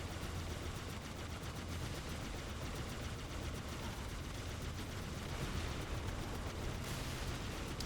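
Dense, continuous rumble of battle from the Halo video game, with explosions and gunfire blending into a steady wall of noise throughout, fairly loud and without speech.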